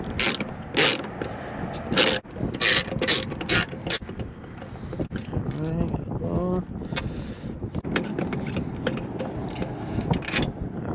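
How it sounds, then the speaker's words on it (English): A ratchet turning a T15 star bit to remove Corvette tail lights gives rapid clicking bursts, with someone talking over and between the clicks amid some wind noise. "We got a T15 star bit, and we're just gonna go ahead and take off the tail lights."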